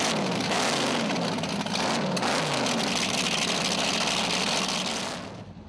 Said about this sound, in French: On peut voir la vérification des moteurs, Louis-Philippe.